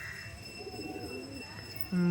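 A pigeon coos softly in a low, rolling murmur, followed by a sudden loud steady tone at the end, with faint background noise.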